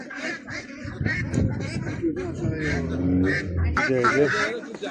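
Ducks quack repeatedly in a noisy cluster at the Mashtaga livestock bazaar in Azerbaijan, their nasal calls overlapping with a busy crowd of voices talking nearby.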